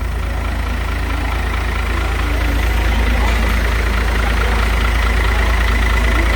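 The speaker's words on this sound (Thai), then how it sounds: "โอ้โห นี่มันวิกเตอร์นี่หว่าเลย" Loud, steady idle of an eight-wheel truck whose engine sounds like a Victor, a deep continuous rumble heard up close throughout, with faint voices in the background.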